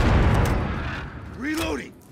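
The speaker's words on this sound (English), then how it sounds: "Enemy precision airstrike! Take cover!" Heavy booming blasts from a precision airstrike in Call of Duty: Modern Warfare, loud and rumbling at first, then fading, with a brief voice-like call near the end.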